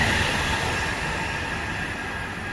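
Train rumbling past at a distance, a steady low roar with faint rolling rail noise that slowly fades.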